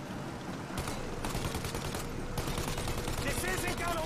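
Rapid bursts of gunfire aimed at a plane's engines during a shootout in Mafia: Definitive Edition, loud and continuous volleys with dense overlapping shots throughout.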